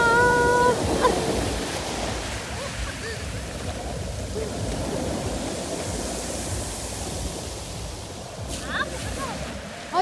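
Sea waves wash and surge continuously in a broad, steady roar of water noise, with faint voices and a short tonal sound near the start.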